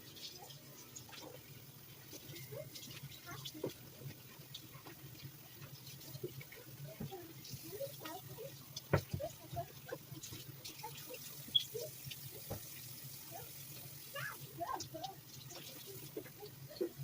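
Warm tap water runs quietly into a sink while a hat is rinsed, a faint steady splashing stream with small irregular spatters throughout.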